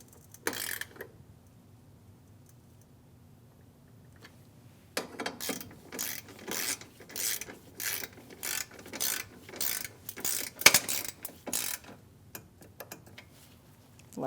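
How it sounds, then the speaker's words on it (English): Torquing 7mm head bolts on a Chevrolet Malibu front bumper bracket, a ratchet clicks in quick close bursts after a quiet start, the rhythmic ticking strokes repeating for several seconds with short pauses. "and torque them to 22 inch-pounds."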